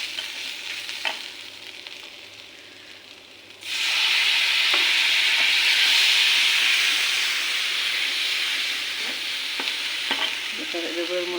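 Paneer tossed with salt and paneer masala in a hot frying pan for capsicum paneer sabji. After a quieter start, a loud, continuous sizzling hiss sets in with occasional scraping stirs, and no voices.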